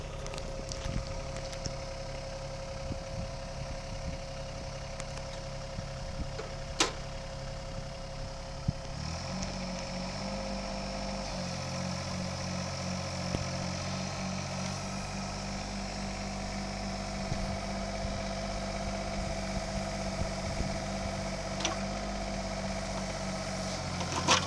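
A 2018 Yanmar ViO25-6A mini excavator with a diesel engine idles and works, a steady low rumble that deepens and gains a throbbing beat midway as the hydraulics load up.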